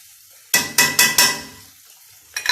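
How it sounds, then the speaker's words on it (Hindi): A spoon clacks and stirs in a pan of frying mutton, onions and garlic-ginger paste for a spicy karahi, with four sharp scraping strokes in quick succession, a quiet lull, then more stirring. "तो अब मैं इसमें प्याज डाल दूंगी और इसके साथ ही मैं ये लहसुन अदरक पेस्ट डाल दूंगी।"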